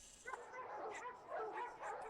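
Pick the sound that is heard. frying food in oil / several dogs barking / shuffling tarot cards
several dogs barking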